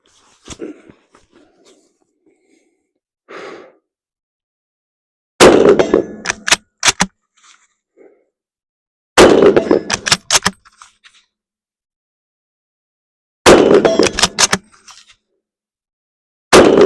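Lee-Enfield No.4 Mk1 rifle fired on an outdoor range at 100 yards: four loud, sharp shots about four seconds apart, each followed by the metallic clatter of the bolt being cycled.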